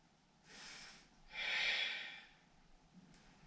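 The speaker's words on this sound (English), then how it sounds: "Breathing here." Two slow, audible breaths drawn and released during a yoga flow, close and soft, the second longer and fuller, with quiet surroundings.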